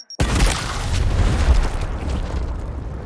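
A frag grenade blows up in Gears Tactics, a tactical shooter: one abrupt, powerful blast hits close and loud, then rolls into a sustained, gradually fading rumble.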